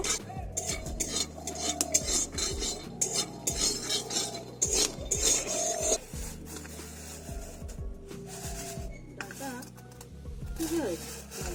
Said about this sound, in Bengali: বাদামটাকে অল্প একটু ভেজে নেব।